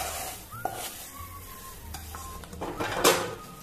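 Roasted semolina being stirred into cooked pineapple in a pan, with metal spoon clinks and scrapes against the pan over a faint sizzle, close and brief, without speech.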